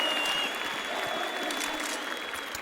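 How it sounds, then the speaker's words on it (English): A Turkish crowd at a BLAST Pro Series Istanbul esports match (Cloud9 vs Space Soldiers, Counter-Strike on Mirage) cheers and applauds for Space Soldiers, a loud sustained roar filling the arena. "There we go, some cheers for Space Soldiers."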